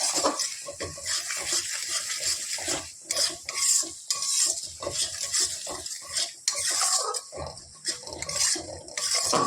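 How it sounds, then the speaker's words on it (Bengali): Ginger and cumin pastes with turmeric and chili powder stir-fried in oil in a pan for an egg curry, with steady sizzling and repeated scraping and clinking of a spatula against the pan, close and continuous. "এবার দিয়ে দিলাম আদা বাটা, জিরা বাটা, হলুদ গুঁড়ো, লঙ্কার গুঁড়ো সব দিয়ে মশলাগুলোকে কষিয়ে নেব।"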